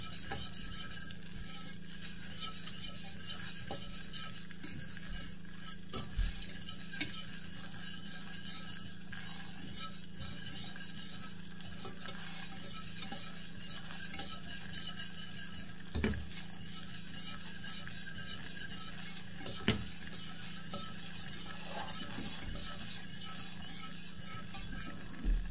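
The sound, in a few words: stirring butter and flour roux in pan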